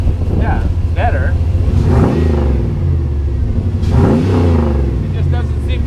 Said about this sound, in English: It just doesn't seem to go up a lot when you rev it